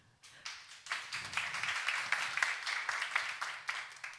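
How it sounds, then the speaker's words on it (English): A small audience at a tech accelerator demo day claps, starting with a few scattered hand claps that quickly build into a steady, modest round of applause, fairly quiet and distant. "round of applause for Sergey"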